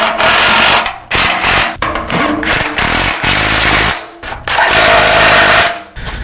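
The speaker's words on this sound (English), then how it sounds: "Let's tighten some bolts." A power tool tightens bolts while a motorcycle wheel vise is installed, giving loud, close, repeated buzzing and rattling bursts with short breaks between them, no talk.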